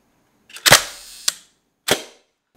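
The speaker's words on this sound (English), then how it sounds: "remove the dark slide, lock up that mirror, and click the shutter" A Hasselblad 501CM medium format film camera gives a loud mechanical clack as the mirror locks up, a brief tick, then a second sharp clack as the shutter fires, all close and alone in silence.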